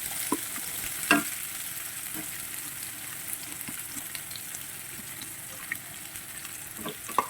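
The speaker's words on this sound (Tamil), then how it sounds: "வெங்காயத்தையும் சேர்த்து நல்லா வதக்கிக்கோங்க." Onions sautéing in a pan with curry leaves and garlic, a steady close sizzle and frying hiss with soft stirring scrapes and occasional clinks, no voices.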